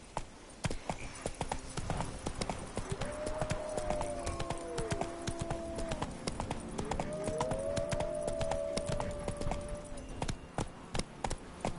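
Roach the horse in The Witcher 3 video game trots with steady, rhythmic clip-clopping hooves throughout, close and fairly loud, over a low game ambience with faint whinny-like tones in the middle.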